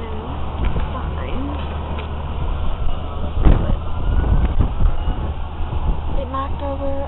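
A police siren wails in the distance on a windy day in Saint Louis, its rising and falling tone faint beneath gusty wind noise, traffic rumble and a brief thump, with people talking nearby.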